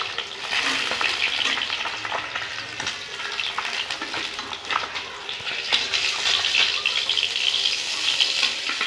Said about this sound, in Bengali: মাছগুলো ভেজে নিব কিন্তু হালকা করে ভাজবো মাছগুলো